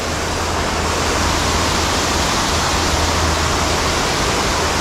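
A waterfall on a creek pours in a steady, loud, unbroken rush of broadband water noise with no talking.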